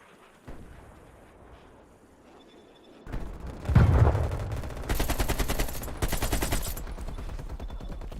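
Video game gunfire: a sharp shot, then a heavy blast and sustained rapid automatic fire, loud and dense, continuing in bursts until the weapon runs dry.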